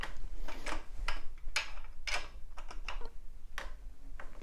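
Tightening a bolt on a tandem bicycle's bottom bracket: a run of close, crisp ratcheting clicks in an uneven rhythm, alone without talk.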